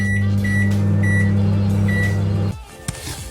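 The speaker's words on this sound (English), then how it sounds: "I'm just gonna pop it into the microwave for 3 minutes and hope that it's warm and edible by then." A microwave oven heating steak gives off a loud, steady hum with faint repeated beeps. After about two and a half seconds it cuts off, leaving quiet handling noises.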